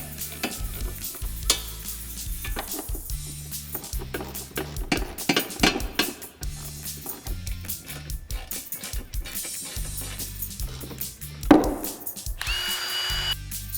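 Power tool tightening bed enclosure hardware on a Polaris RZR Pro R, heard as repeated short buzzing bursts at a steady rhythm, mixed with clicks and rattling handling noises and a brief sharp clank near the end.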